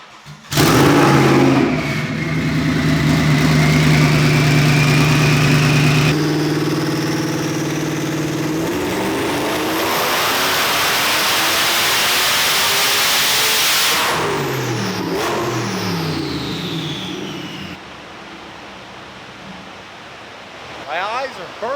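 A twin-turbo drift Mustang's engine cranks and fires loudly, settles into a rough idle, then climbs through a long rising rev before easing back down, heard up close.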